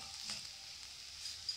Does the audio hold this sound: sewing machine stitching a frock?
no